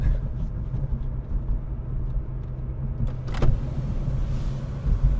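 Inside a BMW E36 M3, a faint electric sunroof motor whirs briefly against the low steady cabin rumble, with a short mechanical clunk partway through.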